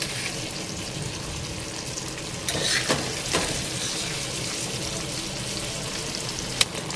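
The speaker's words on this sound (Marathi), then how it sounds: "फ्राय करून घ्यायचं, जेणेकरून असं क्रिस्प यावा फिशला" Fish fries in hot oil until crisp, a dense continuous sizzle close by, with a few sharp clinks of a utensil against the pan partway through.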